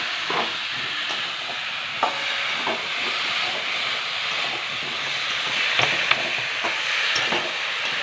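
Pumpkin pieces being stir-fried in hot oil for a fish curry, a steady close sizzle and hiss with scattered scraping stirs of the spatula against the pan, no talk.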